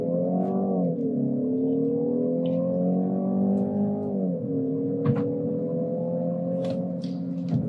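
A 2023 Mercedes-Benz C200 mild hybrid pulls away from a standstill, its engine drone close and steady, the pitch climbing and briefly dipping between gears, with no voices.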